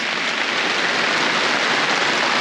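Heavy spring rain pours steadily onto a shelter over a garden work area, a dense, continuous hiss of drops close by with no voices.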